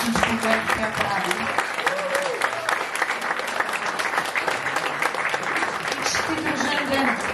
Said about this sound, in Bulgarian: Така че аплодисменти за Лили, за Лили Мюзик и за всичко, което тя прави.